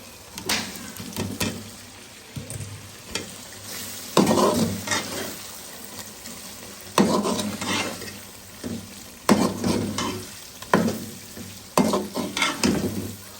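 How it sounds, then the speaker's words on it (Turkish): Meat sautéing in a pan for a Turkish spinach stew, a steady sizzle broken by repeated loud scraping stirs at an irregular pace, close and with no talk. "Etimi güzelce kavuracağım arkadaşlar tamam mı?"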